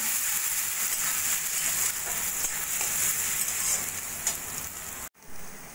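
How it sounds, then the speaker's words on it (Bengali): Moong dal fries in hot oil in a pan, a continuous close crackling sizzle that runs evenly and then cuts off abruptly near the end before resuming more quietly. "মুগ ডাল দিয়ে 2 মিনিট মতো ভেজে নিয়েছি"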